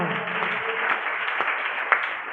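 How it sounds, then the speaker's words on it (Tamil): A church congregation at a Tamil Christian worship service claps together in a steady, moderately distant wash of applause. "நல்ல ஒரு கைதட்டு கொடுங்க பார்க்கலாம்"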